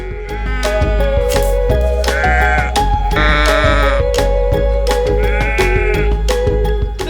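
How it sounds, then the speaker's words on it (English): Sheep bleat loudly and repeatedly, several long wavering calls overlapping against a steady background of music. "Every single sheep in this field is looking at me."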